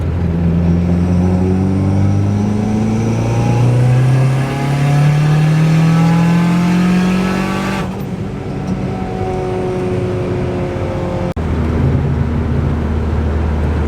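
A turbocharged 4G64 car engine makes a wide open throttle pull from third gear, its loud, near engine note climbing steadily in pitch, then cutting off abruptly as throttle lifts before settling into a lower cruising hum.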